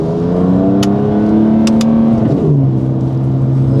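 A BMW M4 engine revs loudly at a race track, its steady roar climbing in pitch before dropping sharply near the end, close and continuous with no talk.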